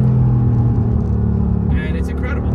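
A Mercedes-AMG GT R driving along backcountry roads, its engine a steady, loud low rumble throughout with a slight rise near the end, while someone talks over it.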